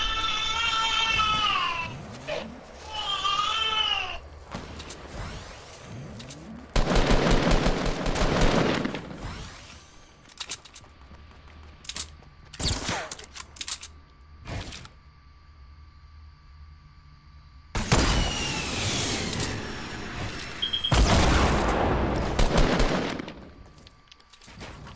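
Bursts of gunfire and sharp sniper shots from the video game Fortnite crackle in clusters, some rapid and dense, others single, separated by quieter gaps with faint game sounds.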